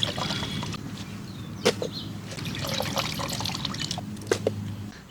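Water splashes and trickles over raw chicken being washed twice in a rustic village kitchen, with steady running liquid and a few sharper splashes and knocks close by.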